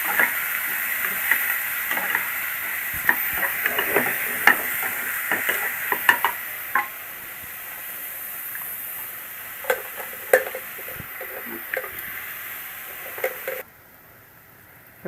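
Chopped shallots and onions fry in a pan for mutton curry, with a continuous sizzle punctuated by scattered stirring clicks and scrapes; the sound cuts off abruptly near the end.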